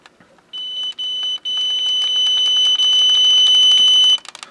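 An Emacros solar driveway motion sensor alarm gives a run of loud, steady electronic beeps close by, the tone pulsing in short bursts before holding and then cutting off, with no talking over it.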